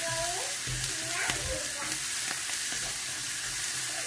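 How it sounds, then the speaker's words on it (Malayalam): Onion, curry leaves, ginger and green chili sautéing in a pan for an Angamaly-style mango curry produce a dense, close sizzle with a few soft scrapes of stirring, steady throughout. "ഒരു സവോള, രണ്ട് തണ്ട് വേപ്പിൻ്റെല, ഇഞ്ചി, പച്ചമുളക് എല്ലാം കൂടിയിട്ടിട്ടൊന്ന് വഴട്ടാൻ പോവാണ്."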